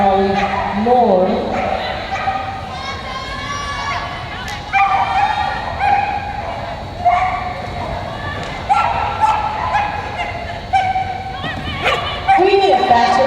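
Border Collie barking and yipping in an agility competition ring, sharp repeated barks scattered throughout amid busy crowd noise and a commentator talking over the action.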